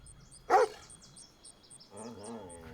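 A dog barks once sharply up close, followed by quieter whimpering and low growling sounds, set against near silence.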